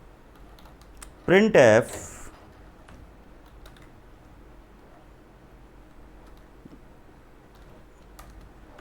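Brief burst of keyboard typing while a C program's code is entered on a computer, a quick cluster of key clicks about a second long, with a voice in Hindi speaking over and around it against low room noise.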